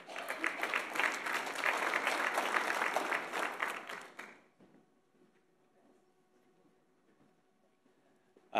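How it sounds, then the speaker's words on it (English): Audience applause at a college athlete of the year awards ceremony, a steady dense wash of clapping for about four seconds that cuts off abruptly into near silence with faint room hum. "Just want to have a little round of applause."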